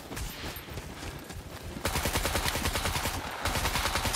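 Rapid gunfire bursts from the SCUM survival shooter during a player-versus-player fight, near and loud, continuing densely across the whole stretch with sharper volleys in the second half.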